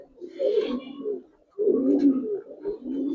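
A Giribaz pigeon coos close by in two low, throaty bursts separated by a brief pause.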